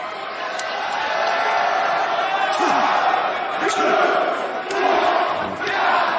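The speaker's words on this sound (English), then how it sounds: "a bilingual crowd here in Quebec City counting along in both English and French" A bilingual wrestling crowd in Quebec City chants a count in English and French as Dustin Rhodes throws right hands at The Butcher, a loud, steady arena roar with rhythmic shouted beats.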